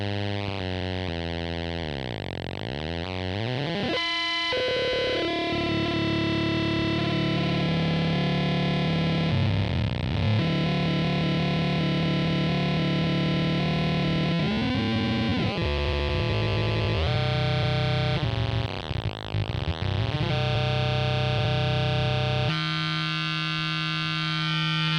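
Serge modular synthesizer churning out chaotic, shifting tones: warbling sweeps, buzzing harmonics and abrupt timbre changes in a continuous, fairly loud stream with no voices.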